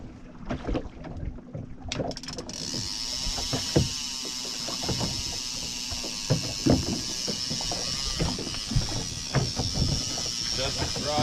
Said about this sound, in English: Tighten my drag